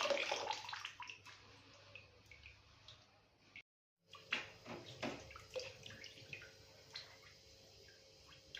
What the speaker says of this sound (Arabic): ببتدي انقعها في مية وملح وليمون